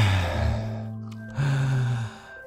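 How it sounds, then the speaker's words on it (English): A dog inhaling loudly with heavy, rasping breaths, two long drawn-in snorting breaths separated by a short pause, close and prominent. "My dog loves to just inhale really, really loudly."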